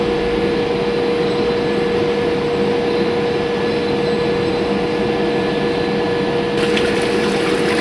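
Water pours steadily into a measuring tank in a fluid mechanics lab discharge test, a continuous even rushing with a constant hum underneath, loud and unbroken with no talk.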